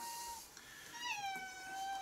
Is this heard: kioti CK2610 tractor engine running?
no